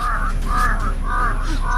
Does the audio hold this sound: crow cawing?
yes